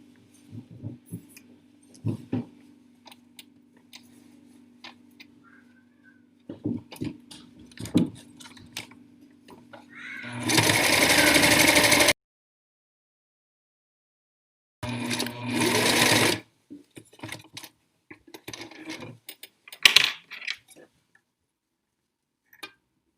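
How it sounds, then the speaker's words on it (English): A sewing machine stitching the elastic waistband of boxer shorts, two loud rapid bursts of whirring stitches a couple of seconds each, separated by quiet pauses, fabric handling and small clicks. "you're going to be doing one line of stitching in the middle between those two rows."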